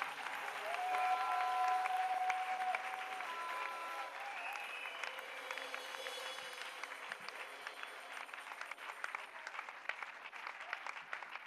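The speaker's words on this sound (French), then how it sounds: "Yes, clap that the chains be broken." Sustained applause from a church congregation gathered for an evangelical meeting, dense clapping filling the room, loudest at the start and continuing steadily throughout with faint voices mixed in.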